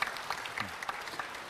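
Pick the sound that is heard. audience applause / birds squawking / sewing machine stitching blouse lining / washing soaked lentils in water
audience applause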